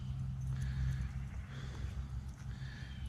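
A stabled horse nearby snorts and gives a low whinny over a steady outdoor rumble, with faint shuffling hooves.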